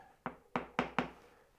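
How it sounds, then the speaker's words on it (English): Four sharp knocks tap a glued hinge pin into a small wooden box, close and crisp, the first alone and the last three in quicker succession, each ringing briefly in the wood. "Just give that a little tap."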